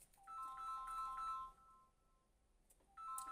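A phone rings with an incoming call: a faint, high, repeating electronic ringtone with short beeping tones in two bursts and a quiet pause between them.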